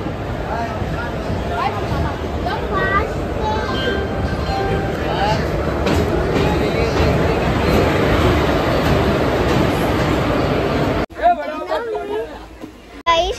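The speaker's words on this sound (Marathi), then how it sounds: "आता मी इलेक्ट्रिक ट्रेन मध्ये बसलो." A loud, steady rumble and rattle fills the inside of a moving electric train, with people chattering nearby, before the noise suddenly drops near the end.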